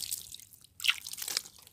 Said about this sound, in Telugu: కొంచెం వాటర్ అయితే చేద్దాం